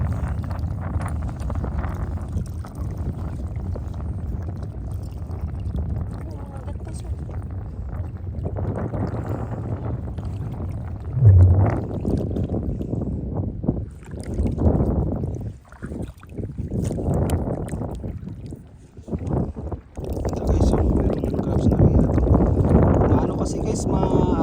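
Wind buffets a small boat on choppy water, gusting rumble and splashing slaps rising and falling unevenly, with people talking over it at times.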